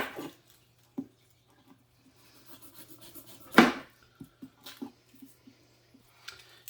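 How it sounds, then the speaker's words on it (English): A knife chops through garlic cloves on a cutting board, roughly opening them for rosemary garlic sea salt: a few sparse, irregular close taps, with one sharp, loud strike in the middle and quiet pauses between. "we're not going to chop this up super fine, but we do just want to kind of open it up a bit and open up those cloves"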